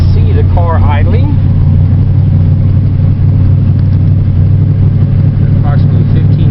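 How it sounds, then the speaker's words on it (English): A cold car idles at around 1,500 RPM on a chilly morning, a steady low drone throughout with brief higher-pitched squeaks near the start. "You can see the car idling."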